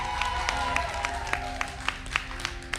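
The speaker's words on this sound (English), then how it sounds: "Everyone here in the studio, I want one last time, give it up for your Roblox Creator Showdown champions." A studio audience applauds the Roblox Creator Showdown champions, a short run of scattered, rhythmic claps rising from a modest crowd.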